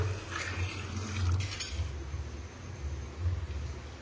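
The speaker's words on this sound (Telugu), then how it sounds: "బియ్యంకు సరిపడా నీళ్లు పోసుకుందాం" Water pours onto rice in a pot for chicken pulao in a steady, gentle stream, fairly quiet and close by, with light splashing.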